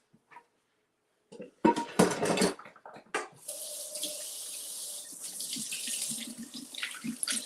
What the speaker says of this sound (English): let me wash my buttery hands.